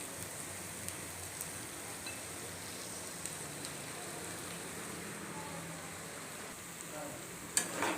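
Leftover rice is stirred through tomato egg rice in a pan, a soft continuous scraping and gentle sizzle, with a sharper clink of the utensil near the end.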